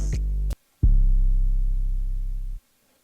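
Two deep 808 bass notes from a Serum synth patch, a short clipped one then a longer booming tone with a bright click at the start, ending abruptly.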